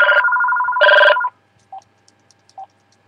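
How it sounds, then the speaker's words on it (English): A telephone rings indoors with loud, close electronic trilling bursts that then stop. Two short, softer beeps follow in the quiet. "Oh, phone."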